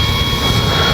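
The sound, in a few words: Dynam F6F Hellcat RC warbird plane flying past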